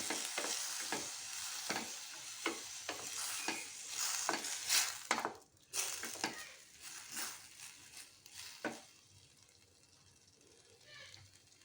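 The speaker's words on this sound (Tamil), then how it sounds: "தக்காளி பழத்தையும் ஆட் பண்ணி கொஞ்சம் நல்லா நம்ம வதக்கி விட்டுக்கலாம்." Tomatoes sauté in a hot pan for a tomato side dish, a steady sizzle under regular scraping strokes of a stirring spoon that slow and fade toward the end.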